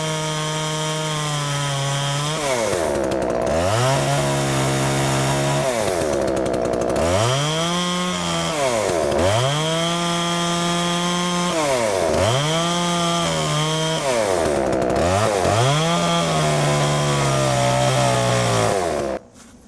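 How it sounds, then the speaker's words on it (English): A chainsaw runs loud and close for the whole stretch, its engine revving up and dropping back in repeated surges as it bites through thick English ivy vines. "So we're going to use a chainsaw."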